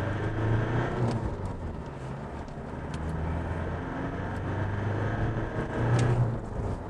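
Steady low engine drone and road roar from an Isuzu D-MAX Hi-lander 2.5 pickup with a variable-geometry turbo diesel and five-speed gearbox, heard from inside while cruising at speed, with slight swells in loudness and no talking.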